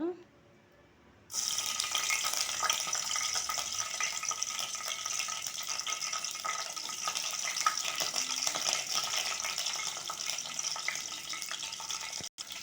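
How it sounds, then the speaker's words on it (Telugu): Oil heating in a pressure cooker for mutton curry starts abruptly after a quiet moment, then holds as a loud, even, hissing sizzle close by until the end. "ఆయిల్ వేస్తున్నాను చూడండి కుక్కర్లో వేస్తున్నాను"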